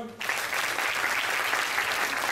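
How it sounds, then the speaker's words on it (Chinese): A live audience applauds to welcome a speaker to the stage at a social enterprise presentation, steady broad clapping starting abruptly and filling the room without pause. "来掌声欢迎"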